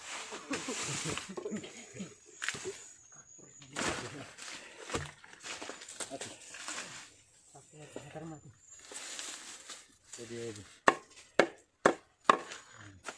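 Napier grass stalks chopped with a bolo knife outdoors: a quick run of four or five sharp, loud chops near the end, with people talking throughout the earlier part.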